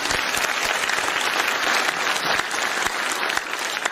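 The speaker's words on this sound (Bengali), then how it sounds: "নিজেদের জন্য একটা আরো একবার বড় করে হাততালি দেবে" Dense, steady applause from a seated audience at a motivational speech, loud and close, with many hands clapping continuously and no pauses.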